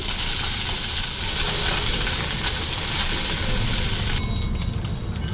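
Small fish frying in mustard oil in a wok give off a loud, steady sizzle and crackle that runs unbroken, then eases slightly near the end.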